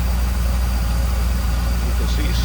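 A 1956 Ford F100 pickup street rod with electronic ignition idles smoothly up close, a steady low rumble with a faint voice near the end.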